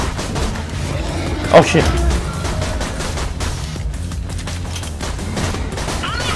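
Rapid gunfire and booming shots from the video game Borderlands 2 rattle continuously, with one louder blast near the start, while someone shouts and talks excitedly over the fighting.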